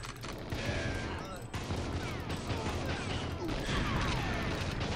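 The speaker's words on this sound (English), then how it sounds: "Darn exploding cardboard." Cardboard boxes blowing up in the GoldenEye 007 video game, a dense burst of crackling blasts and rattling gunfire-like explosions filling the whole stretch, loud and continuous with a brief dip partway through.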